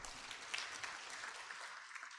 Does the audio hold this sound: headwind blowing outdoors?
no